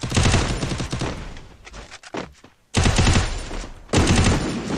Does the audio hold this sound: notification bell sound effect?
no